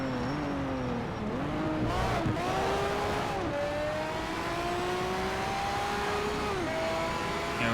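A Pagani Zonda R and rival supercars racing in Need for Speed: Shift on PS3, with engines droning steadily and loud, pitch swooping up and down through gear changes as cars jostle to overtake, no talk.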